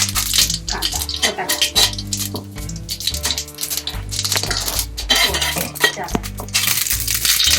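Mustard seeds and cumin dropping into hot oil in a pan on a stove for South Indian sambar, giving a busy close crackle and clatter of seeds and utensils against a steady sizzle, with a low hum underneath.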